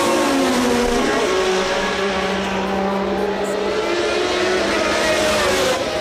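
Formula 1 cars from 1981 race at the San Marino Grand Prix, a loud continuous engine roar with rising and falling pitch sweeps as they pass, with no other sound breaking through.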